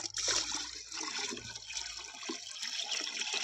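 A pesticide spray mixture for a pomegranate orchard is poured back into its tank, giving a continuous close splashing and gurgling of liquid.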